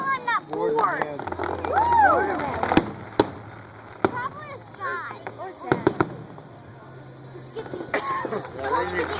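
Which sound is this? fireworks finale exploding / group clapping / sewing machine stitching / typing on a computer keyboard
fireworks finale exploding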